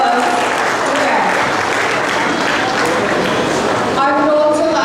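A school camp audience of girls and parents at a Lucknow girls' college gives loud, sustained applause, with a voice starting to speak over it near the end.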